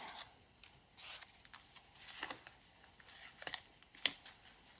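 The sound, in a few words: tearing paper for a slashed paper journal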